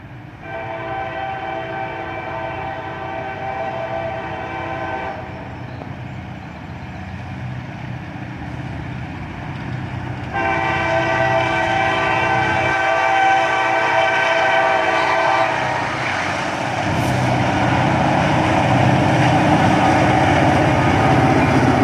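A long northbound manifest freight led by a pair of GP38 locomotives sounds its horn in sustained blasts, loud and near, over the heavy rumble of the train rolling through Carlisle.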